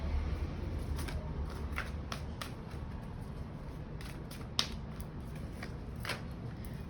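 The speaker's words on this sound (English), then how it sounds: "Let me just give it a little shuffle." Tarot cards shuffled by hand in a quiet room, giving soft repeated riffling bursts at an uneven rhythm over a steady low background hum, close and fairly faint, with no talking.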